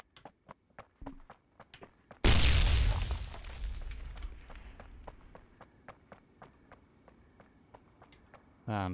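Grenade blast in the shooter game Ring of Elysium: one loud, sudden explosion with a long rumbling decay, set among rapid, evenly spaced footsteps that continue before and after, with a second burst starting at the very end.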